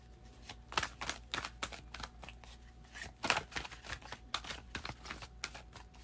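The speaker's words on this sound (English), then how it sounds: "Last shuffle." Tarot card deck shuffled by hand, a quiet close series of crisp irregular flicks and riffles with soft pauses between bursts, no voice heard.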